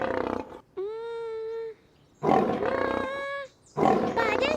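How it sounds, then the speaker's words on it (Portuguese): Lion roaring at a zoo: three drawn-out roars with pauses between them, loud and close, the middle one long and tonal. "Ei, já sei, é um leão."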